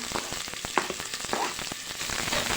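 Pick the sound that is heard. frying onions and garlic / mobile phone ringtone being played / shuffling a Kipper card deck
frying onions and garlic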